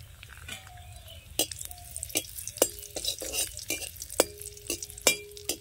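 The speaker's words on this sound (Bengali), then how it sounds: "এখন কিশমিশটা ভেজে নেব।" Raisins fry in a pan and are stirred, with a quiet background sizzle broken by repeated sharp scrapes and clinks of the spoon against the pan.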